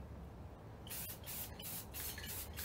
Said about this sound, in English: This is also how you apply your filler primer.